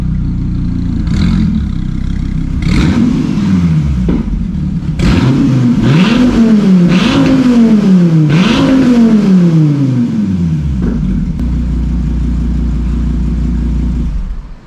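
A 2017 Dodge Viper Snakeskin Edition ACR Extreme with side pipes revs hard in a series of loud rising and falling blips, the deep engine roar swelling and dropping before settling into a steady idle rumble.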